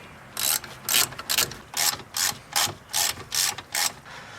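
A hand ratchet clicks in about nine quick, even bursts while tightening front strut bolts on a 2000 Chrysler 300M, each stroke a crisp metallic pawl rattle heard close up with no talking.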